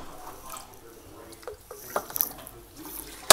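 Water is poured into a baked chicken and rice dish in a few soft splashing bursts, quiet and close, with a sharper clatter at the very end.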